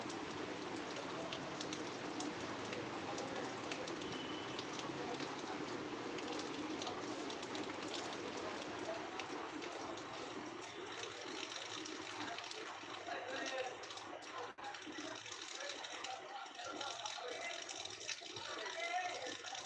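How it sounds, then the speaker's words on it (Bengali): Evening rain falls in a steady, even hiss of drops on surfaces that lasts throughout, fairly faint and unbroken. "এখন বৃষ্টি হচ্ছে"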